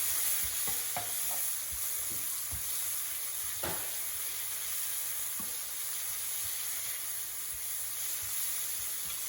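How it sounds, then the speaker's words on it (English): Tomatoes stir-fry in a hot pan with seasoning cubes and ginger paste, giving a steady close sizzle under scattered spatula scrapes and taps. "Immediately after adding your tomatoes, stir fry it, and then add your seasoning cubes, add your ginger paste, and stir properly."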